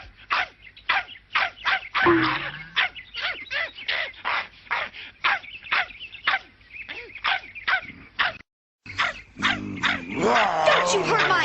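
A small cartoon dog barks repeatedly in a rapid, rhythmic series of sharp yaps, close and loud, with a brief pause before a final burst that overlaps with other animated voices and sound effects.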